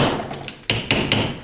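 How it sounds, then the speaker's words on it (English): A 2-pound hammer smacks a pipe set in concrete with three loud, close, ringing metallic strikes in quick succession, without talking. "Good old 2-pound hammer will work great. This pipe is in there. So, gotta smack it a little bit."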